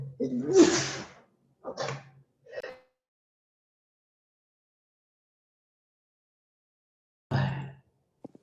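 A single sharp sneeze bursts out at the start of a quiet stretch in a Spanish-language circuits lecture, followed by a couple of short vocal sounds, a long silence, then brief speech near the end.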